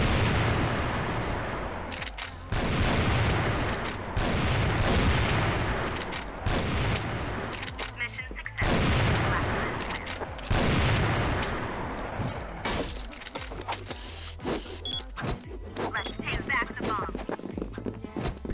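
Rapid bursts of M82A1 Barrett sniper rifle fire in the online shooter CrossFire, with loud broadband cracks repeating through dense game action and other weapons, under continuous talk from a player.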